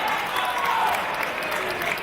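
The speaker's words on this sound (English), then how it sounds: "you can hear the love and admiration that this Swanley crowd has for Sammy Smooth" A wrestling crowd in Swanley applauds after a singles match exchange, a dense, steady patter of clapping from many hands filling the hall at moderate volume.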